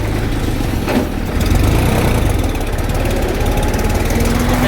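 A tractor engine runs steadily nearby with a low, chugging idle and a slight rise in loudness partway through; no voices.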